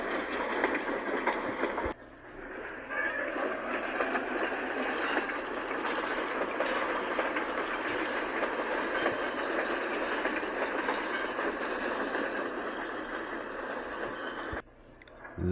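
Freight cars being slowly shunted make a steady, continuous rolling rumble with faint rail clatter. The sound holds at a constant level for about thirteen seconds, and quiet gaps at each end frame it.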